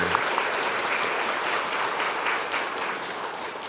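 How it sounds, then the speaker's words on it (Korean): A church congregation applauds steadily, broad and even clapping that fills the room for a few seconds with no speech over it. "박수 쳐줘야 돼요."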